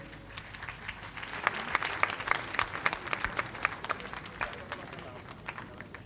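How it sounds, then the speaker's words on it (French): Audience applause at a gala awards evening as the best female manager prize is presented, a dense wash of clapping with sharp individual claps standing out, moderately loud and steady throughout. "À vous les dames d'applaudir"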